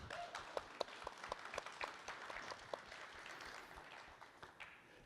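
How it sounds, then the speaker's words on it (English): A modest crowd gives a round of applause at a community Earth Day event: scattered, uneven hand claps with some sharper individual claps, fairly faint and thinning out toward the end. "So round of applause to all of you all."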